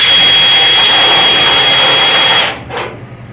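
A power drill fitted with a cone bit bores a hole in metal, giving a loud, steady high whine that cuts off abruptly near the end, followed by a brief fading spin-down.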